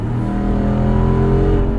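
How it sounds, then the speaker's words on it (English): A Jeep Wrangler's valved exhaust opening up under acceleration, a loud steady engine drone with rising tones from inside the moving vehicle, alone. "the exhaust will open right back up for you"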